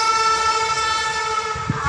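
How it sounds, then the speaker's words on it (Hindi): A Humsafar train rolls through a station platform, a steady loud rumble of wheels and carriages with ringing tonal harmonics throughout, and a brief low knock near the end. "आप देख सकते हैं इधर हम सफर ट्रेन जा रही है।"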